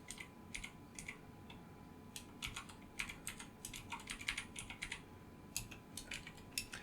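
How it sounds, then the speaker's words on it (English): Quick bursts of keystrokes on a computer keyboard, clicking in irregular runs with short pauses between, close but fairly quiet against a faint background hum, with no voices. "I'm just going to type it in"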